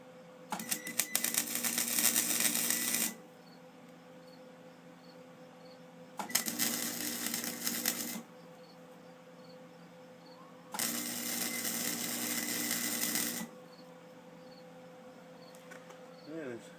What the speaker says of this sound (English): I'm going to turn it down and get a couple of tacks on here.